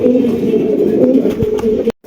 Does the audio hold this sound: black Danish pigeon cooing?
yes